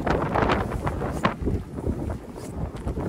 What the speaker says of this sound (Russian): Ужасный ветер, ужасный.